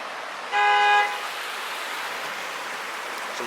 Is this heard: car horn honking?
yes